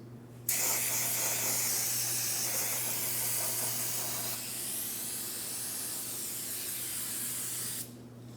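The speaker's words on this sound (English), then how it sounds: "For this, I'm using some parts cleaner" Parts cleaner sprays steadily onto the transmission pan area of a 2004-2008 Pontiac Grand Prix 3.8L V6, a loud continuous aerosol hiss that starts abruptly, holds for about seven seconds with a slight dip partway, and cuts off sharply.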